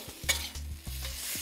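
Beef flash-fries in a hot wok with steady crackling sizzle, punctuated by a few metallic scrapes and clanks of stirring.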